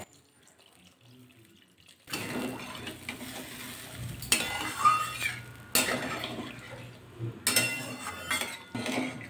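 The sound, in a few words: stirring potol and potato curry in a pan after adding water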